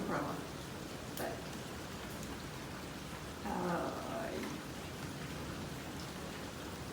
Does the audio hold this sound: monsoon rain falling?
yes